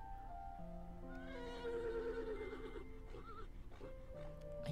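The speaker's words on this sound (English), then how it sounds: "I hear horses." Horses neigh faintly in the distance in the horror game Mad Father Remastered, a few quiet wavering whinnies over a low ambient background.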